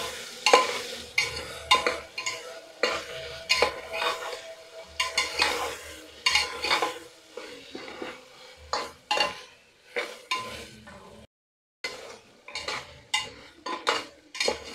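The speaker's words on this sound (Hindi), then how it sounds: "अच्छी तरह से मिक्स करके 2 मिनट फ्राई कर लूँगी" Mixed vegetables for mushroom biryani being stirred and fried in a pan: a near, irregular run of metal spoon scrapes and clinks against the pan over a light sizzle, with brief pauses and no talking.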